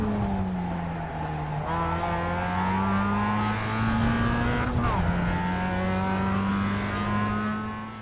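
A Mazda MX-5 Cup race car in iRacing passes the start-finish straight at Laguna Seca, its engine whining loud and steady, briefly dipping in pitch at a gear change before climbing again.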